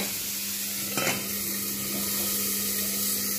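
Sliced bitter gourd fries with salt and turmeric in a covered pan on low heat, giving a soft, steady sizzle with one brief clatter of the pan or lid near the start.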